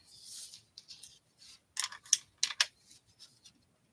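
Scissors snip through paper in a short series of crisp, close cuts clustered together, with quieter rustling between the snips and no talking.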